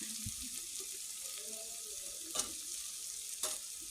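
Onion, tomato and green chilli are sautéed in a pressure cooker for a chicken and potato dish. A steady hiss of frying runs throughout, broken by two sharp spatula knocks against the pot.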